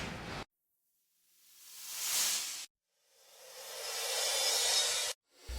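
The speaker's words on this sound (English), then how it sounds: "A swoosh transition sound." AI-generated swoosh transition effect: two airy whooshes that swell gradually and cut off sharply, the second longer, alone with silence between.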